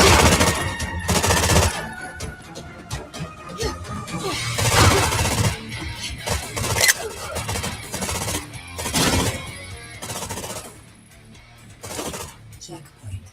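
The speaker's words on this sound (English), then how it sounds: "shoot his helmet off with an assault rifle" Rapid assault rifle gunfire from the game Terminator 2D, with dense repeated bursts and crashing impacts throughout, while a player talks excitedly over the shooting.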